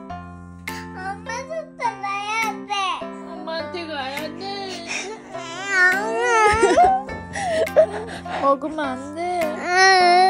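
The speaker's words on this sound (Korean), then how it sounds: "왜 울어? 울지 마." Young child crying and wailing at home, rising and falling sobbing cries in bursts, close and loud, mixed with an adult talking over it.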